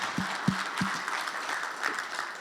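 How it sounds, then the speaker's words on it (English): Applause from a conference audience at the close of a beef efficiency Q&A session, a steady dense patter of many hands filling the room, with a few louder low thumps near the start. "Let's give everybody a round of applause up here."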